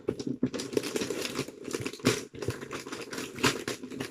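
Wrapping paper crinkles and rips in close, busy bursts, crackly rustling punctuated by short tearing strokes, with no voices.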